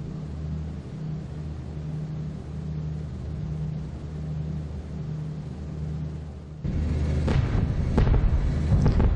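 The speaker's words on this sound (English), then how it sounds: "first action with the flak barrage" Flak barrage in the B-17 bomber game The Mighty 8th: a droning multi-engine hum continues steadily, then a louder stretch of repeated sharp explosion bursts cracks over the engine noise.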